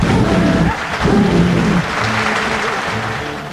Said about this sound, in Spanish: A ver, hagan viento con esos aplausos